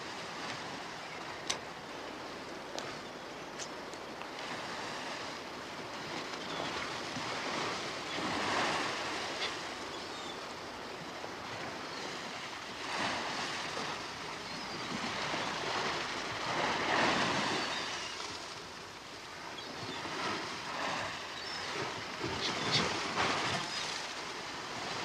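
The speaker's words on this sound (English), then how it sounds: "it's too windy for me up here." Strong wind roars steadily and gusts in broad waves, a continuous rushing noise with no voices.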